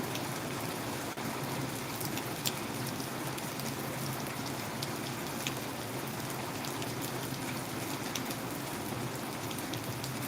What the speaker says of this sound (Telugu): మనం కురుస్తున్న వర్షాన్ని అయితే మీకు చూపించే ప్రయత్నం చేసిన కొంచెం హెవీ వర్షం